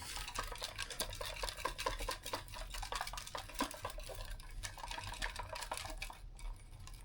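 Raffle tickets are mixed by hand, giving a soft, continuous paper rustling and shuffling close up, faint and steady with no speech.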